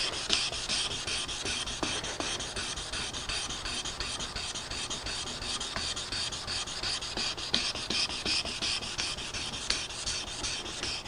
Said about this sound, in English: I've attached my 400 grit to my sanding block, and now I'm just going to go lengthwise until I get out all of the scratches